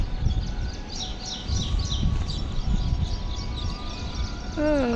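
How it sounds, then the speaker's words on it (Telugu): Birds in the trees around a house give faint, high chirping calls over a steady outdoor rumble, with a brief clearer call near the end. "పక్షుల అరుపులు"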